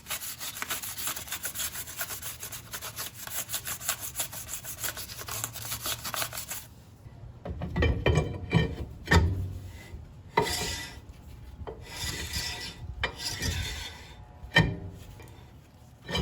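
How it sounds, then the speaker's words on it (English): Fine grit sandpaper rubbing the rear drum brake shoes of a 2010 Chevy Cobalt, first a steady continuous scrub, then a series of separate rasping strokes with short gaps, close and moderately loud. "I take some fine grit sandpaper and just rub them down on both sides"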